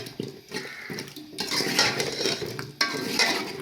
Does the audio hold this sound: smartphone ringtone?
no